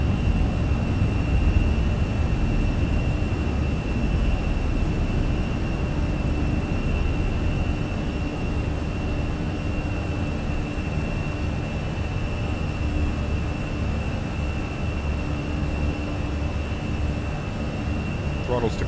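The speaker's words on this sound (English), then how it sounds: "V1, rotate. Positive rate, gears going up." Steady, loud jet engine roar fills the cabin as an EasyJet Airbus airliner takes off and climbs in Microsoft Flight Simulator, a continuous broadband rumble with a faint tonal whine throughout.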